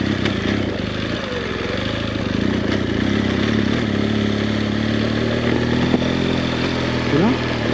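An off-road motorcycle is ridden through a rough passage on a Moroccan trail, its engine idling and revving steadily at close range with some clattering, and a brief rising rev near the end.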